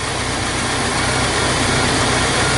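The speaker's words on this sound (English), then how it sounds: "key on engine running" The 2.5-liter engine of a 1999 Ford Ranger with a fuel pressure problem idles steadily and loudly up close, a constant low rumble with no one talking.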